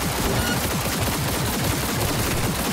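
Sustained rapid LMG fire in Cyberpunk 2077 against a cyberpsycho, a dense, loud, continuous rattle of shots with no pauses.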